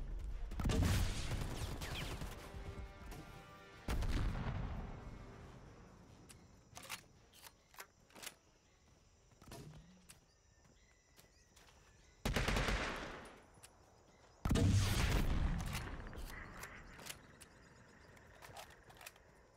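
Gunfire rings out in the online PS5 shooter Predator: Hunting Grounds, with sharp bursts of rapid automatic fire separated by quieter gaps and a few isolated clicks and shots, fairly close and loud.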